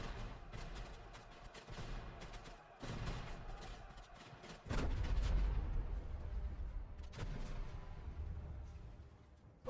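Sharp bursts of gunfire and heavy booming artillery blasts, irregular and loud, with a deep explosive rumble swelling midway and continuing under scattered shots.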